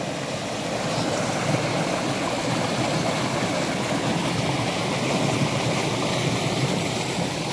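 A village tubewell in Gajanpur gushes water in a steady, loud, continuous rush that stays even from start to finish with no voices over it.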